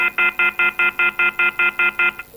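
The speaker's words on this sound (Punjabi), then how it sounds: "ਕੱਟ ਗਿਆ ਫੋਨ ਕੱਟ ਗਿਆ" After a phone call is cut off during a Punjabi call-in show, a loud disconnect tone sounds, with about eleven evenly spaced electronic beeps in a steady fast rhythm and no voices.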